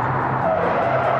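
Loud, steady tire squeal and road roar as a Tesla Roadster brakes hard from 200 km/h, one brief continuous burst of skidding.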